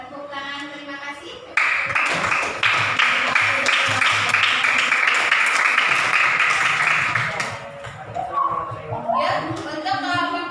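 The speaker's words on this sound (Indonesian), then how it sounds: "tepuk tangan, terima kasih." Audience clapping bursts out in a classroom teaching session, a dense, loud wash of hands lasting about six seconds before fading, with a teacher speaking before it and talk resuming over scattered claps afterwards.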